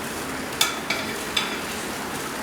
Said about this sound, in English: we will sear the meat both sides